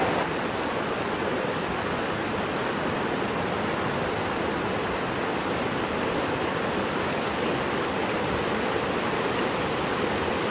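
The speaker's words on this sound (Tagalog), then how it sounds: "aron madunggan po ninyo unsay tingog sa agos sa tubig diri ba" River water rushing beneath the Babalaya hanging bridge in Bacolod, Lanao del Norte, a steady, dense broadband roar of flowing current that stays constant and loud with no talking.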